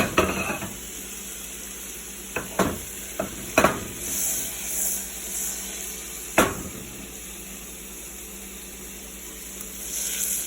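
Butter melts in a pan under a soft, continuous sizzle, with a few sharp clinks and knocks of a utensil against the pan scattered through it.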